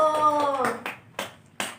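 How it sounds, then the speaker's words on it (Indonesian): A primary school class claps for a student: a voice speaks, then three sharp, evenly spaced hand claps ring out close by in a small room. "Tepuk tangan buat Niko"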